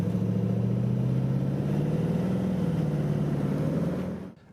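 A V8 car driving along an Isle of Man road gives a steady, low engine drone with a faint waver in pitch. It holds even throughout and drops away abruptly at the end.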